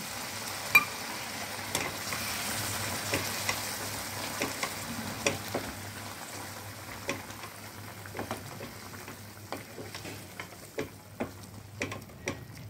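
Water poured into a pan of sizzling potol korma, a soft steady simmering hiss broken by irregular sharp pops and ticks, close and without voices.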